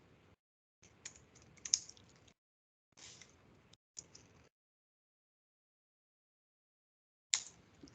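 Keys clatter on a computer keyboard as a command is typed, short bursts of quick close clicks separated by silent gaps, ending with a single sharp keystroke.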